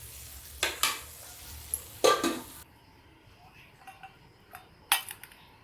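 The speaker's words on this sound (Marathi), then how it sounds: "आता आपल्याला हे चांगलं कडक असं भाजून घ्यायचं आहे" Fish masala for a Goan-style basa fish curry roasting hard in a pan, with a faint sizzle under sharp scrapes and clinks of a spatula against the pan at irregular intervals, nearby and fairly loud.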